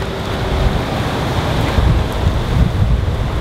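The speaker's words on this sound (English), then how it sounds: "that wind is lethal" Strong gusting wind in an open outdoor spot buffets the microphone with a loud, continuous rumbling roar, with no voices.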